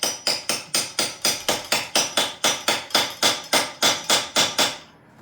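A hammer taps a socket over rusty nuts on a Mini rear subframe, about seventeen loud metallic strikes in a steady, even rhythm. The hits are close and ring briefly, then stop.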